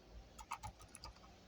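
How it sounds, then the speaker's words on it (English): Keystrokes on a mechanical RGB mini keyboard, roughly ten quick, quiet clacks in an uneven typing rhythm over about a second, close to the mic with a faint hiss underneath. "So listen to my keyboard."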